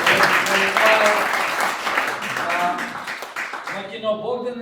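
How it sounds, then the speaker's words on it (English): Restaurant audience applause at a Lake Placid bistro, a crowd clapping with scattered voices and chatter mixed in, strong at first and then tapering off near the end. "let's give her a little round of applause."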